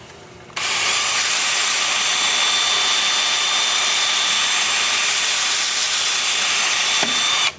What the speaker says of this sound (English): the 2-inch disc with the lathe spinning forward